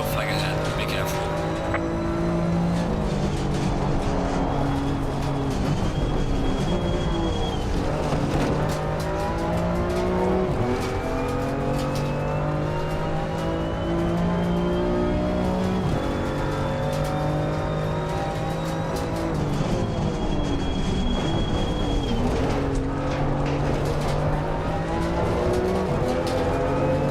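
A BMW M2 race car laps the Imola circuit in Assetto Corsa Competizione, its engine droning steadily and rising and falling in pitch through gear changes, with tire squeal now and then and a voice talking over the continuous racing sound.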